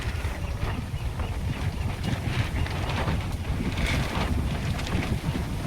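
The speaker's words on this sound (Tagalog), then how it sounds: "Sobrang lakas ng hangin." A strong wind roars across the microphone in heavy, continuous buffeting gusts. The sound is loud and rumbling and lasts throughout, with no talking.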